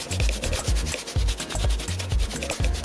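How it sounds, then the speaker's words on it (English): Suede on roller skates scrubbed with a brush in a steady back-and-forth motion, close and loud, with rhythmic rasping strokes repeating about twice per second and no talking. "we're gonna go in and just start scrubbing this in a back and forth motion"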